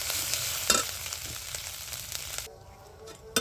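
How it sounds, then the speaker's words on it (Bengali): Ginger and green chilies fry in hot oil in a pan, giving a steady close sizzle and crackle with a brief stirring clatter, then the frying quietens toward the end. "আদা আর কাঁচা লঙ্কাটা একটু ভালো করে ভেজে নিতে হবে।"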